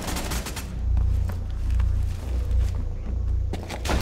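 Gunfire in Rainbow Six Siege on the Consulate map in a hostage match, rapid shots and thuds layered over a constant rumbling game background, dense and mid-distance rather than isolated.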